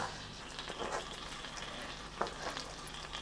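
Spoon stirring a thick sauce with chopped flat-leaf parsley in a hot pan, soft sizzling underneath a few scraping strokes, close and fairly quiet with no voices.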